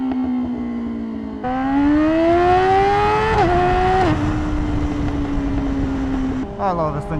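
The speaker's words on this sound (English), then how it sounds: "Listen to those pops." The engine of a 2026 Yamaha R7 motorcycle rises in pitch as the bike accelerates, eases off, then drops away near the end with a crackle of exhaust pops. It is loud and close throughout.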